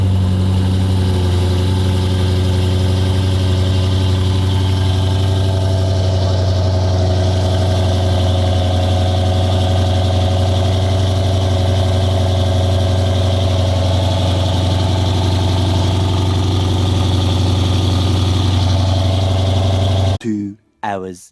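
A BMW M550i engine idles on a cold start with a closed-valve exhaust and no tips, a deep, droning exhaust rumble, loud and close, holding an even pitch for a long stretch before abruptly cutting off.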